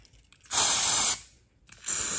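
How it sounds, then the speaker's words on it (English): A can of gold glitter spray paint hisses in two close bursts, the first about half a second long, then a pause before a second spray begins. "I'll come back in about 30 minutes and spray the gold."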